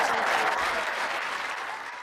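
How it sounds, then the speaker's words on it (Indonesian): A television studio audience claps for Rahma Azhari on a late-night talk show, a brief, full burst of applause that tapers slightly toward the end. "beri tepuk tangan untuk Rama Asari"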